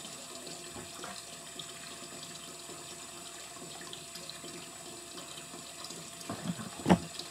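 Water runs steadily from a tap into a container being filled for a soda ash soak, a soft continuous rush with a brief splash near the end and no talking.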